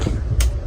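A train rumbling along, heard from inside an air-conditioned coach, with a steady low roar, a brief brighter hiss or clatter swelling up midway through.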